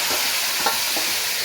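Bay leaves and spices fry in a pan for home-style biryani, giving a steady broadband sizzle with a couple of soft scraping stirs, close and fairly loud, with no voices.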